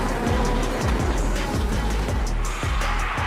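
A professional drift race car on an airport runway, its engine roaring hard with rapid gear-like pitch sweeps and squealing tires, loud and close throughout.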